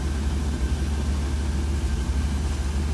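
A 1966 Cadillac engine with a Holley Sniper idles high at about 2,000 RPM with a constant low rumble and a faint high whine, no voices, the hum unchanging throughout.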